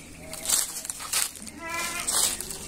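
Goats in a pen bleat several times, with short nasal cries spaced about every half second to a second, mid-distance, over low background murmur and some speech.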